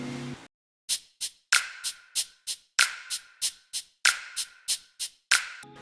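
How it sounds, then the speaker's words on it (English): Dry snap hits now join a shaker-style percussion layer in a beat's drum pattern, a quick steady pattern of short bright rattling strokes between the louder snaps, close and rhythmic with no voices. "Then I added a shaker."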